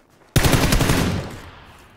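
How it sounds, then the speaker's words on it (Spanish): Loud burst of automatic gunfire in a multiplayer shooter with armored vehicles, a sharp onset followed by a rapid rattling volley that fades out over about a second and a half. "Aquí sí que hay tiros"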